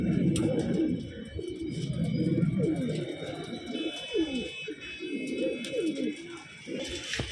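Pigeons coo repeatedly in low, soft, rolling calls, overlapping at close range amid faint background noise.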